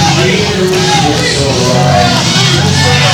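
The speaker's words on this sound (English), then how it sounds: "Some very enthusiastic fans in the crowd." A pro wrestling crowd at a PCW Limelight show cheers and shouts in a loud, continuous roar, with a voice talking over the din.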